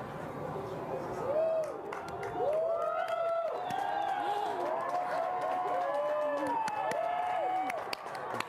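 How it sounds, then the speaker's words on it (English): A crowd watching a ring of fire solar eclipse cheers and whoops steadily, distant and muffled, with voices rising and falling throughout under a continuous background wash. "Everyone is cheering."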